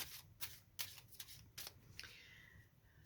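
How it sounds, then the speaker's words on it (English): Tarot cards being shuffled by hand, a series of crisp riffling bursts and soft slaps at an irregular rhythm, close and quiet, with no talking. "So I'm just shuffling now"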